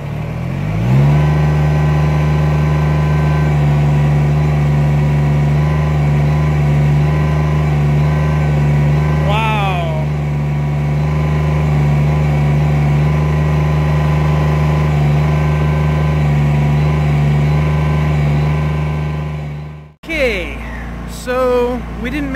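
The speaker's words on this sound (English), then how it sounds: "Rev it up!" An engine hums loud and steady at close range for most of the stretch with a brief pitch sweep midway, then cuts off abruptly near the end, followed by a short burst of other noise.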